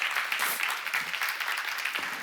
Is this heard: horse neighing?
no